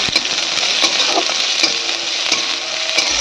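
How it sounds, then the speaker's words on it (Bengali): Chopped onion and ginger fry loudly in a hot pan, a dense close sizzle broken by sharp scraping stirs every so often, with no talking. "পেঁয়াজটাও ভেজে নেব আমি"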